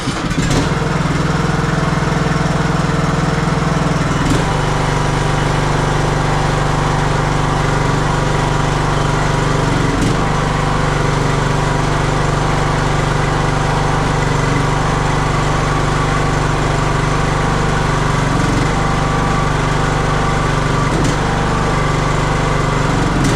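A lawnmower engine runs indoors in a shop, a loud steady drone with deep rumble and occasional small shifts in pitch, alone and close throughout.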